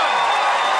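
Theatre audience at the Savoy Theatre bursting into applause and cheers to vote for a debate winner, a dense, loud roar of clapping and shouting that fills the short moment without pause.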